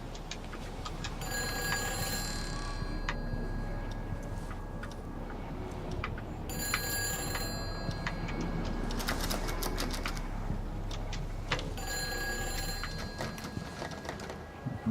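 A telephone rings inside a petrol station in the video game Everybody's Gone to the Rapture, sounding in three clear bursts about five seconds apart over a steady ambient hum, with no talking.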